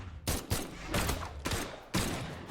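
Rapid bursts of gunfire from the Brawlhalla fighting game, four loud volleys of several seconds' span each starting sharply and trailing off, with a low rumble underneath and no voices.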